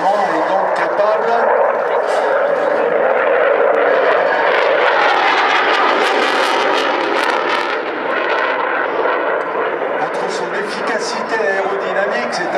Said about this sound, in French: Le Rafale est un engin doté de commande de vol électrique